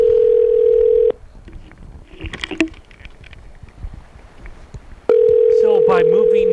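Telephone ringing in two long steady electronic tones, loud and close, separated by a quieter stretch of rustling and small knocks, with a voice talking over the second ring.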